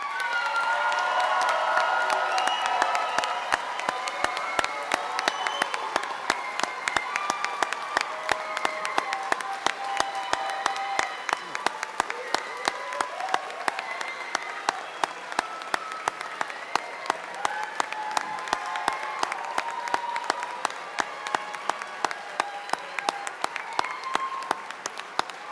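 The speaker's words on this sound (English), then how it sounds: "let's give them a big round of applause" Audience at a police academy graduation ceremony applauding the standing class, sustained dense clapping with some cheers and whoops, steady and lively for the whole stretch.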